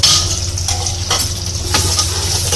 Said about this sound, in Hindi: और इसको चम्मच चलाएंगे 1-2 मिनट बस।